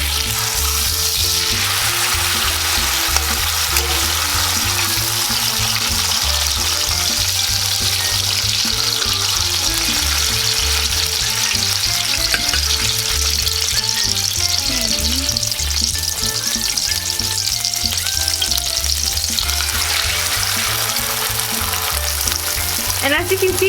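A corn tortilla soaked in red enchilada sauce fries in a hot pan, giving off a loud, continuous sizzle and crackle that holds steady throughout, with no voices.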